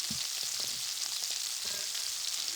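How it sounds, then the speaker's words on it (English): Smashed parboiled potatoes fry in hot oil with a loud, steady bright sizzle, a few soft knocks of the food shifting in the pan beneath it, and no voices. "what we're gonna do is we're just gonna add the potatoes right into this oil."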